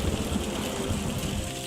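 Steady rain falls in Seattle as a dense, even hiss with low rumbling underneath, constant throughout with no voices.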